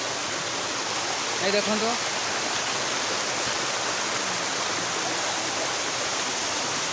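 The Asurajhola waterfall pours in a steady, dense roar of rushing water that fills the scene throughout, with a brief voice speaking over it.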